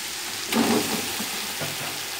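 Chicken pieces frying with ginger-garlic paste in a pot for biryani pulao, a steady, fairly loud sizzle throughout with a brief surge of crackle as the food is stirred.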